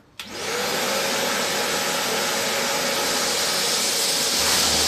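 A Karcher WD3 wet and dry vacuum cleaner starts up abruptly and runs with a loud, steady broadband suction roar, close by on a workshop floor, with no talk.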